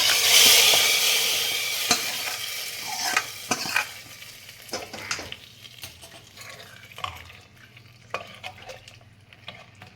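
Loud sizzling hiss as hot tempering is poured into sambar, fading over several seconds, broken by sharp clinks and scrapes of a ladle stirring in a pot.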